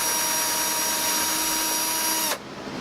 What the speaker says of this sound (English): we did a test pilot hole to make sure our wire fits, so it's a pretty small drill bit